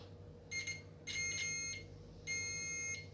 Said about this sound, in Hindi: या बजर सुन सकते हैं।